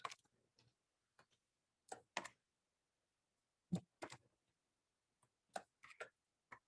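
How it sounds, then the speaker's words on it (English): Sparse keystrokes on a computer keyboard come in short bursts and single taps with quiet gaps between them, close and crisp in an otherwise silent room. "let me try typing this out again."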